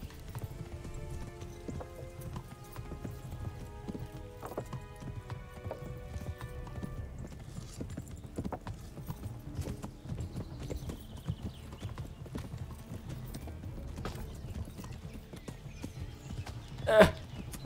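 Horse hooves clip-clop steadily at a gallop in Kingdom Come: Deliverance, a continuous rapid beat running the whole stretch, with a brief louder burst near the end.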